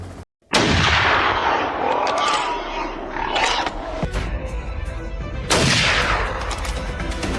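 Gunfire from a helicopter gunner on a wild boar hunt: a few loud, booming shots with long ringing decays, heard over a steady rotor and engine roar.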